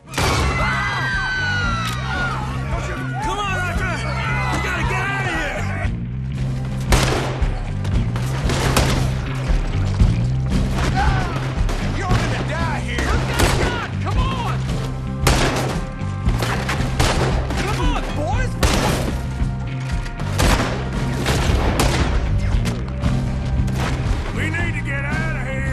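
A chaotic gunfight in Red Dead Redemption 2, with repeated loud gunshots cracking over steady background music and shouting voices throughout, shots scattered irregularly across the whole stretch.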